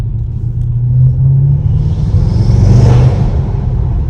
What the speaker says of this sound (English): Of course, you can hear the turbo spooling.